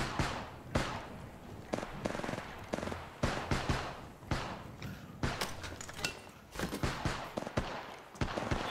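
Gunfire in the Apex Legends Mobile video game comes as rapid, repeated sharp shots in irregular bursts throughout, fairly loud and close in the mix.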